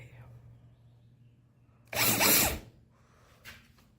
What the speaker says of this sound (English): Now I have to drill into my lovely guitar.